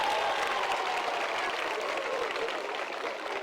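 Pupils at a school complex in Burkina Faso applaud together in a sustained, even wash of clapping that holds steady throughout and eases off slightly at the end.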